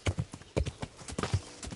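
Horse hooves in Kingdom Come: Deliverance, a quick, faint run of clip-clop steps in an uneven rhythm with a soft whinny-like tone.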